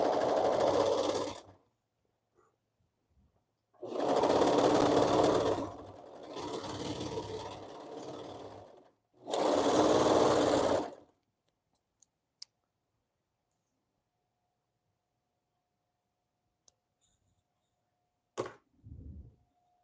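A home sewing machine stitches a hoodie seam in three loud bursts of rapid mechanical whirring separated by quiet pauses, followed by a few faint clicks and a brief handling thump near the end.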